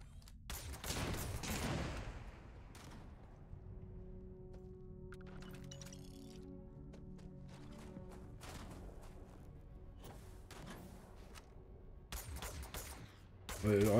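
Gunfire bursts in the space game Starfield: a dense volley of shots at the start, quieter ambient tones and scattered impacts after, then more shots and a loud burst at the end.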